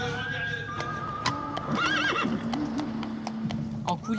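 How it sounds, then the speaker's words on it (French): An Appaloosa horse at Disneyland gives a loud, wavering whinny near the middle, while close hoof clops tap out an uneven rhythm and voices murmur in the background. "C'est un Appaloosa, cheval qui vient des États-Unis."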